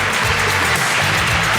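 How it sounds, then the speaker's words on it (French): An audience at a regional business awards ceremony in the Nièvre gives continuous, dense applause that stays loud and even for the whole stretch, with no voices over it. "Bravo, applaudissements."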